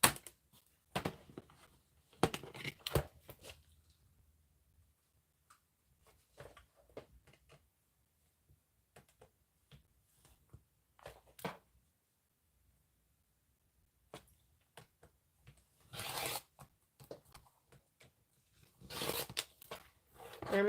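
A rotary cutter or blade slices through doubled-over quilting fabric in short, crisp crunching and tearing strokes, scattered irregularly and close up between quiet pauses, with louder bursts of cuts near the end.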